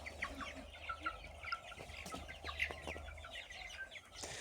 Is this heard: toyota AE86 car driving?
no